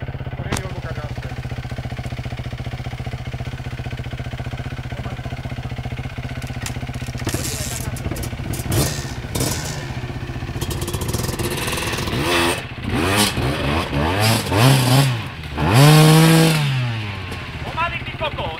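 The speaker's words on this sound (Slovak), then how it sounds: "Však ju zasadni tú motorku, Dano." Motorcycle engine revving as it works over rough, deep ground on a trip in Romania: a continuous buzzing drone that swells into repeated rising and falling revs toward the end, with people's voices calling out over it.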